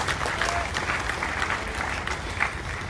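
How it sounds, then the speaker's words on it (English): A church congregation claps their hands in praise during an afternoon service, a dense, steady burst of many hands with faint voices mixed in. "Give a mighty hand clap to the Lord this afternoon."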